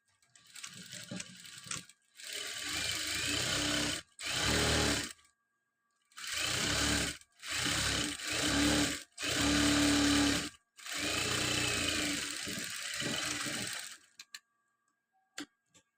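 A sewing machine stitches a chudidar in several separate runs of rapid, even needle clatter, each lasting one to three seconds with short pauses between, close and loud with no talk.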